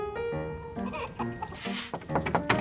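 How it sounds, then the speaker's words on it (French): Organic laying hens clucking inside a henhouse with around 2000 birds, a dense overlapping chorus of clucks and squawks, close and fairly loud. "Ici, ce sont 2000 poules pondeuses qui se baladent à l'intérieur comme à l'extérieur."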